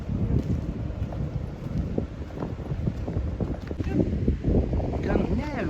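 Strong wind gusts across the microphone by the open Atlantic on Fuerteventura, a constant rumbling roar that rises and falls, with ocean noise underneath.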